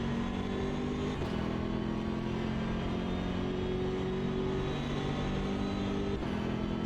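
A BMW M6 GT3 race car's turbocharged engine drones and builds in a racing video game, with a steady mid-pitched engine note that rises and shifts across repeated gear changes and no voices.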